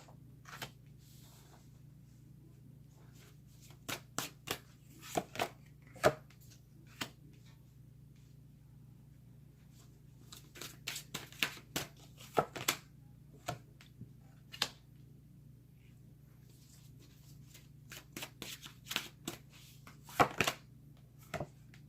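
Tarot cards being shuffled and handled, heard as scattered sharp flicks and soft slaps in bursts with quiet gaps between, close and fairly faint with no talking.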